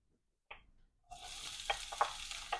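Chopped onions hit a pan of oil that is not yet very hot, giving a brief sizzle, then a steady frying hiss broken by several sharp stirring scrapes and crackles, close by and with no talk.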